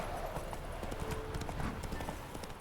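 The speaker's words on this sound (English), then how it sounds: "horse has finally run out of stamina because I've been riding her for so long" Horse hooves from The Witcher 3 video game beat a steady, continuous clip-clop at a riding pace, close and fairly loud over faint game ambience.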